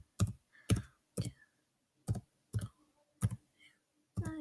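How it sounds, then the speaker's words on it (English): A number is typed on a computer keyboard as a series of distinct, evenly spaced clicking keystrokes. They are close and clear, with short gaps between them. "I'm going to go ahead and type it in."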